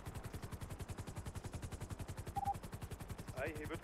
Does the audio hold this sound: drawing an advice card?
no